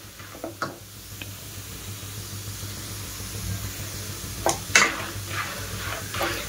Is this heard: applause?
no